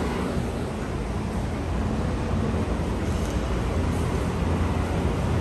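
Aspirated Honda Civic with a 235 and W1000 setup revving hard nearby, a dense, loud, steady engine roar with broadband rush and no talk over it.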